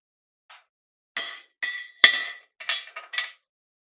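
The metal legs of a Jet rolling bandsaw base are folded up, giving a string of sharp metallic clinks and knocks, half a dozen separate hits spaced unevenly with silence between them, close and clear.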